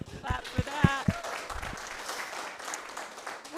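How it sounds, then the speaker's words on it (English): A short burst of clapping rises from a small group at a beekeeping club monthly meeting, a few distinct claps before a faint patter fades under a voice speaking. "Clap for that."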